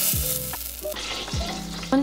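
Quarter cup of butter browning in a pan, a steady broadband sizzle and fry throughout with a few brief clinks of a utensil stirring against the pan, close and fairly loud, no talking.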